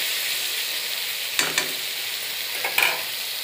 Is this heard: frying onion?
yes